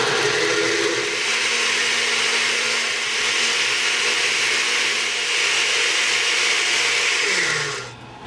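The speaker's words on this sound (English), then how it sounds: "So we're just gonna scoop into the blender." A blender purees black bean soup in one continuous loud whirring run whose motor pitch shifts slightly, then winds down and stops at the end.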